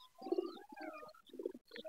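Pigeons inside a pigeon house give soft, low cooing calls in short repeated bursts, faint and close, with no talk.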